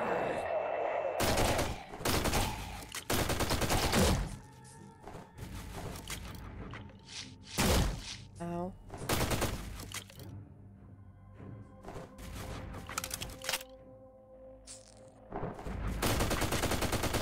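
Bursts of gunfire from Forgive Me Father 2 come in repeated loud volleys with pauses between them, mixed with game music and other effects, with people talking now and then.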